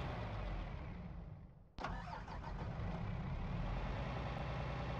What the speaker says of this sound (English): we'll get the engine sounds